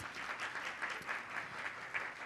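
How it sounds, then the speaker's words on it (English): Faint applause from the audience at an association chapter event, an even patter of many hands heard at a distance and at low level. "please give her a round of applause."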